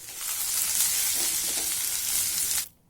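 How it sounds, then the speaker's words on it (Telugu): Sliced onion and chopped okra frying in oil in a pan for a garlic bhindi fry, a loud steady close hiss of sizzling that continues evenly, then cuts off abruptly near the end. "ఈ ఉల్లిపాయలు లైట్గా కలర్ చేంజ్ అయిన తర్వాత తరిగిన బెండకాయ ముక్కలు వేసుకోవాలి"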